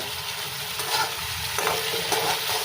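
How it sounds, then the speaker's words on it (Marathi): A roasted aubergine bharit mixture is sautéed in a pan over a gas flame, producing a steady, close sizzle with soft scraping as it is stirred. "आता हे छान असं फास्ट स्लो अशा गॅस वरती हे परतून घ्यायचं आहे."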